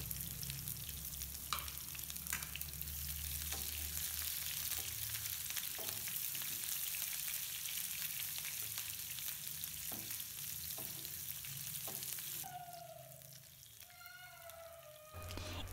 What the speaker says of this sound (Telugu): కరివేపాకు కట్ చేసిన ఉల్లిపాయ ముక్కలు వేసి వేయించాలి